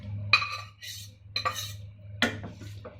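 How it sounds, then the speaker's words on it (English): Utensils clink against a pan three times as boiled potato and beetroot go in for beetroot kurma, sharp metallic knocks spaced about a second apart over a steady low stove hum. "Now we're going to add the potato and beetroot with these ones."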